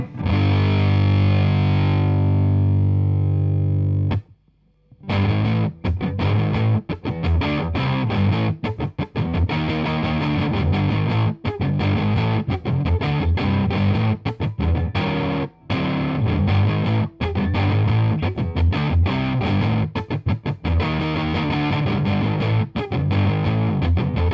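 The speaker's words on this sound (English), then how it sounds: "I'll take you through my favorite setting with this type of pedal, which is just with the fuzz rolled off a bit." Electric guitar played through a silicon Fuzz Face Mini pedal with the fuzz rolled back a little: a sustained chord rings out, a brief pause follows, then a steady run of loud, thick, slightly gritty riffing and strummed chords, with no talking.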